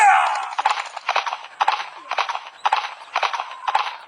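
Rhythmic clip-clop of a horse's hooves trotting steadily in a video game, about seven evenly spaced bursts, close and clear, with a brief whinny-like call at the start.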